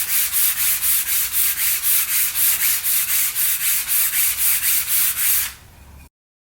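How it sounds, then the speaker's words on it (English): Rhythmic back-and-forth sanding of wood on a marble display cabinet, steady regular strokes at close range, about sixteen passes before stopping abruptly. "Today is final sanding on these, and then a sealer coat of shellac"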